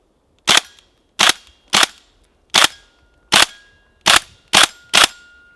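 An electric airsoft AR-15 replica fired in semi-auto, giving eight sharp, loud single shots at irregular intervals of about half a second to a second, with near silence between them.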